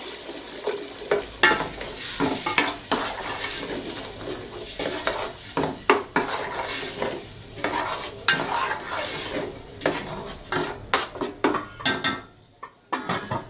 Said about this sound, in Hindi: अब खोल के आपने इसको अच्छी तरह मिक्स कर लें